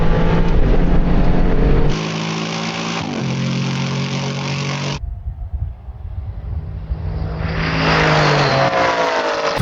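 Aston Martin Vantage GT8 and GT4 race cars in a drag race video game, engines roaring loudly through rising revs, with an abrupt gear change and a sharp drop before the engine climbs again into a high whine.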